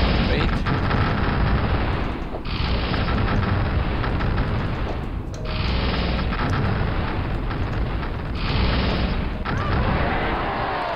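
Bomb blasts from the book weapon in Hexen II, a loud, continuous roaring barrage of explosions with several short dips between the booming waves, heavy and close.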